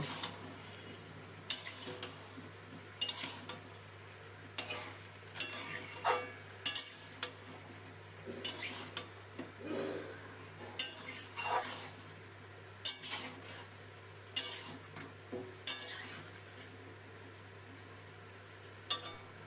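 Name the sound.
frying potatoes with chicken meat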